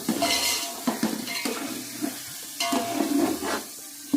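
Boiled beef pieces frying in a pot for beef pulao, a steady sizzle broken by repeated scraping and clinking of a spoon stirring against the metal.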